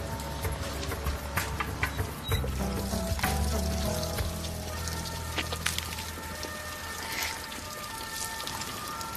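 Water runs and splashes from a public municipal fountain in a steady, close trickle and pour, with uneven spattering throughout.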